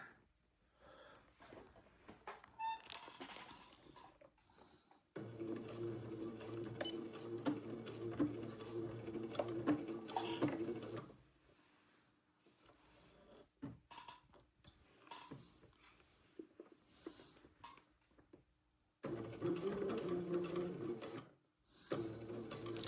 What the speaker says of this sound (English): So let me start sewing right here.